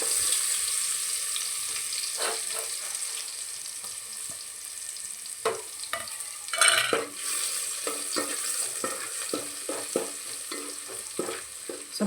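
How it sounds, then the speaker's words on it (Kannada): Garlic fries in hot oil for mutton sambar, a soft steady sizzle close by with scattered scraping stirs and clinks against the pan. "ಈಗ ನೋಡ್ರಿ ಎಣ್ಣೆ ಕಾದದಲ್ಲ ಬೆಳ್ಳುಳ್ಳಿ ಈಗ"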